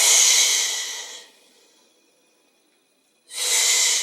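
Two strong, close breaths rush out with an airy hiss during a Pilates exercise, the first fading away into near silence before the second begins abruptly.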